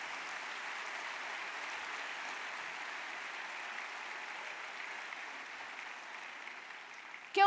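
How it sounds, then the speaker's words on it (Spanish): Congregation applauding in a church service, a steady even wash of clapping that holds at moderate level throughout before a brief louder burst at the very end. "Démosle un fuerte aplauso al Señor Jesús."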